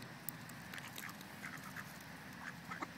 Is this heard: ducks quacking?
yes